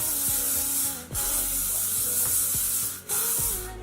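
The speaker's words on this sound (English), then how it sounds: "Next, I'm going to apply just a little bit of hairspray. This is the L'Oreal Elnet Satin." L'Oreal Elnet Satin hairspray hissing from the can in two long continuous bursts with a short pause between them, close and loud.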